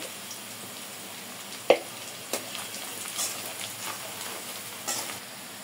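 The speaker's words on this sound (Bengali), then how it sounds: "পেঁয়াজ দিয়ে একটু ভাজে নেব লাল লাল করে" Onions frying in oil with turmeric powder added, a soft continuous sizzle with a few sharp clicks and stirring knocks, fairly quiet and close.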